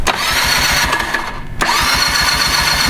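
The engine of a Honda FL400 or NG Sport cranks and fails to start, the starter churning in rapid rhythmic pulses that pause briefly and then resume, loud and close.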